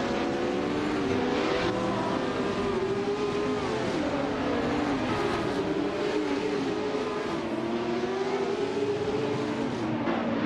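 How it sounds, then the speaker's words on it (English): Race cars in an AI car-racing video game, a dense steady roar of several engines revving and shifting pitch together, loud and continuous throughout. "Hope you're ready to enjoy some exciting AI car races today."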